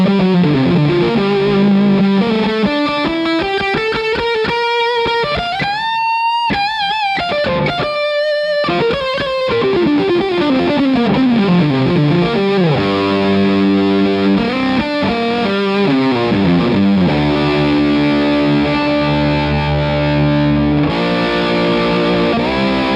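Electric guitar played through an Analogwise Skyrocket fuzz pedal with the tone knob full up and the range knob fully counterclockwise, giving a loud, thick, sustained distorted melody with bends and held notes, playing alone without talk.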